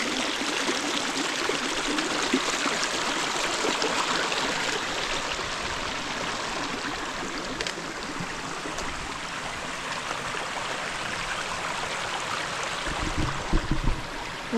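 A mountain stream on Mt Diablo flows and splashes steadily, a dense, unbroken rush of water close by with no voices over it.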